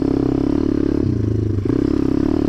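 A Zongshen 190 pit bike engine runs steadily at close range as the bike is ridden with weight on the back wheel, a loud continuous drone with rattly clatter that dips briefly midway before recovering.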